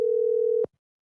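A steady electronic phone tone sounds alone for just over half a second, then cuts off abruptly with a click, leaving silence.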